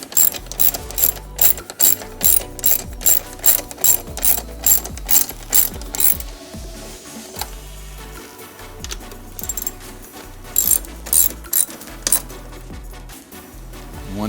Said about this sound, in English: Tighten those down with T50 Torx.